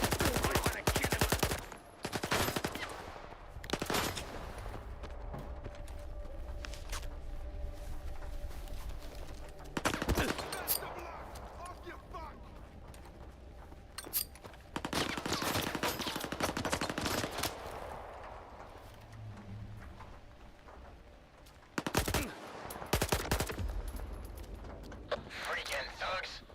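Gunfire in STALKER 2, with loud, sharp bursts of shots and rattling automatic fire in several separate clusters, and quieter stretches between them where voices talk.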